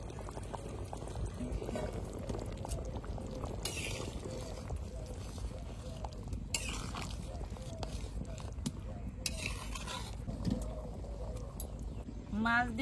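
Hilsa fish drops into a boiling potato curry with a splash, followed by continuous bubbling and liquid sloshing nearby, with a voice present underneath.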